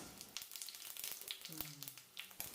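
Mustard seeds sizzle and pop in hot coconut oil, a quiet, crackling fry with scattered sharp ticks and a soft low hum partway through.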